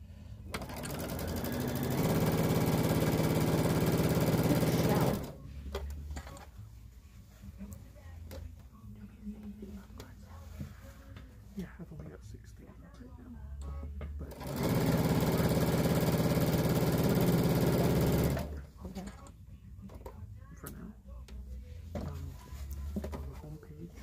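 A sewing machine stitches a quilted purse panel, guided along the edge of a J foot on a quarter-inch quilting setting, in two steady runs of about four seconds each, with quiet pauses and talk between them.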